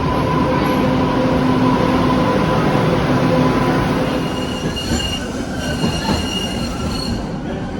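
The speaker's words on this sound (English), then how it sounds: "It should be the right subway." A Boston subway train rumbles loudly and steadily with high metallic wheel squeals ringing over it, easing slightly toward the end as it rolls into the station.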